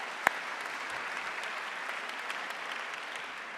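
A crowd gathered for the 2024 Luther move-in day welcome breaks into steady, even applause, a sustained wash of clapping that holds at one level after a single sharp knock at the start.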